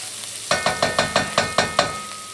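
Vegetables browning in a pan for broccoli soup give a soft sizzle under a quick run of about eight rhythmic scraping stirs, close by.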